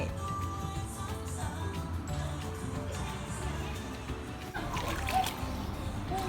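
Children splashing and playing in a hotel swimming pool, with soft, continuous splashes and sloshing water under faint background voices.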